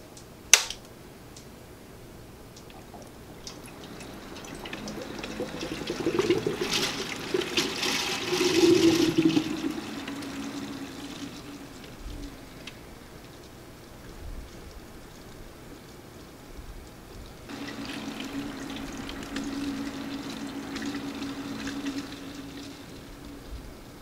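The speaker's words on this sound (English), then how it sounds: "once you get close to 2 centimeters from the top, turn on your pump again" A pump pushes coolant through a custom PC water cooling loop with a Corsair Hydro X reservoir, giving gurgling, splashing water that swells to a louder rush midway, then settles into a steady trickle and bubbling.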